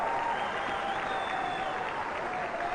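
Steady applause from a sizable tennis crowd at the Chennai Open, at a second-round match, filling the whole stretch at an even level with a faint tone running beneath it.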